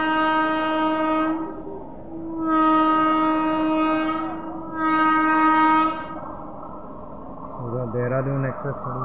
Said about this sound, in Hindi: राजधानी एक्सप्रेस देखिए निकल रही है।